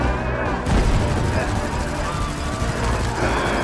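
Continuous gunfire from a dubbed Gamera monster movie, a dense, loud fusillade of shots with a heavy boom near the start, running under an excited voice throughout.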